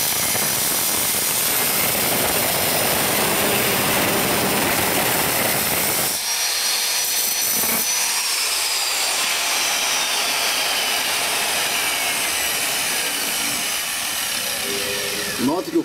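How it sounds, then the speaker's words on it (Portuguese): A power saw with a stone-cutting disc cuts slate baseboard at a 45-degree angle, a loud, close, continuous high whine that shifts in pitch as the blade bites and eases. "Vou posicionar a minha serra aqui."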